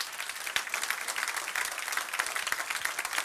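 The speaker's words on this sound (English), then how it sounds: "Give him a round of applause" A live audience at an affiliate marketing seminar gives a round of applause, dense and continuous clapping with scattered sharp claps, steady throughout with no speech.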